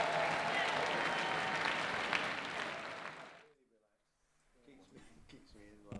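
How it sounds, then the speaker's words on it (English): A crowd at a Saturday night party in London claps and cheers loudly for about three seconds, then the applause fades out, leaving brief quiet before people begin talking. "Everyone give them a huge round of applause."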